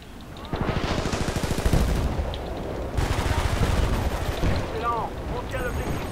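Rapid gunfire from a small pistol in the video game Battlefield: Bad Company 2, a dense run of loud close shots over ongoing battle noise, with more distant firing behind.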